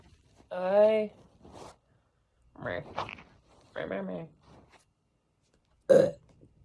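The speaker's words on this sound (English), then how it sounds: "That was the weakest burp ever." A weak, short burp sounds close by, with several brief throaty bursts spaced through a quiet stretch.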